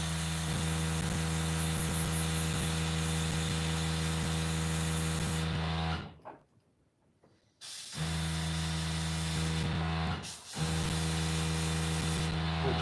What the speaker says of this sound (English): There's so much overspray going on the boots.